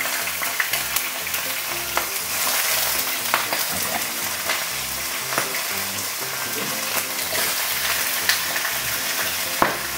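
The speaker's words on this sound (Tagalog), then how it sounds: "Pag sobrang init na ng mantika nyo, ilagay na natin yung ating mga patatin." Loud, steady sizzling and crackling of potatoes frying in hot oil, with occasional pops and stirring scrapes throughout.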